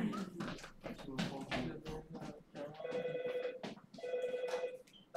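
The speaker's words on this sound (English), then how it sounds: "Okay, I'm gonna get the phone." A telephone rings twice, each ring a steady electronic trill, under and between a person talking nearby.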